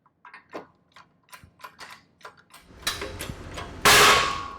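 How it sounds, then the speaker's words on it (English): A hydraulic press with an adapter forces the hub flange out of a Mazda Protege steering knuckle, heard as a run of separate mechanical clicks and clanks that build into a dense grinding stretch and end in a loud, sharp bang. "found the right adapter so we can press out the flange"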